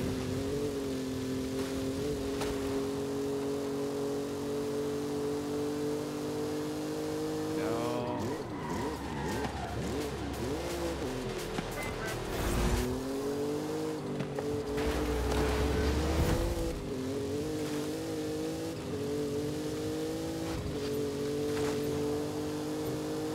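Racing car engines in the Forza Horizon 5 game during an Eliminator race, a sustained droning engine hum with rising and falling revs and shifting pitch sweeps as cars accelerate, loud and continuous.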